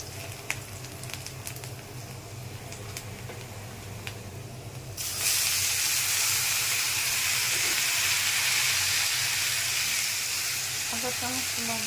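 Chopped greens hit hot oil with browned onion and garlic in a pan, a loud steady sizzle and hiss bursting up halfway through after a quieter low frying murmur, continuing strong to the end.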